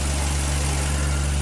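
A Ford Falcon car engine idles steadily after starting, a loud, continuous low rumble with no break through the whole stretch.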